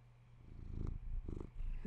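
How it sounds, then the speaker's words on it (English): A pet cat purrs close up in soft, rumbling cycles, a low, quiet, steady vibration rising and falling with each breath. "Is he purring too loudly for you?"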